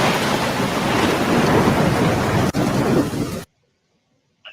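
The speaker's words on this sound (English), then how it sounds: "There's a storm coming." A heavy thunderstorm with steady loud rain and rumbling thunder fills the scene, broken by a sharp crack, then cuts off abruptly to near silence.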